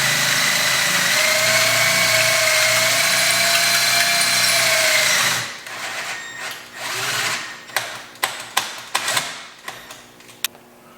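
A power drill whines steadily at high pitch for several seconds drilling into an aluminum Porsche cylinder head, then stops, followed by a series of sharp metallic taps and clicks.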